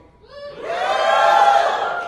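An audience at a live roleplaying convention session cheers loudly, with voices rising from a murmur into a sustained crowd shout that peaks and holds for about two seconds.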